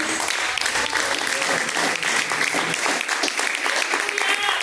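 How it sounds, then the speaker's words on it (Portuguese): A church congregation claps joyfully for Jesus at a live worship service, a loud, dense, continuous wash of many hands clapping close by with no pause. "Palmas alegres para Jesus"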